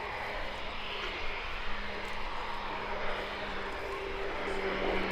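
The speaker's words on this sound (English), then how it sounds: "Single Pratt & Whitney Canada PT-6A turboprop of 950 shaft horsepower" Slovenian PC-9M turboprop with a single Pratt & Whitney Canada PT-6A engine of 950 shaft horsepower, flying a display: a steady broadband propeller-engine roar held throughout, fairly distant and even, with a faint tone running underneath.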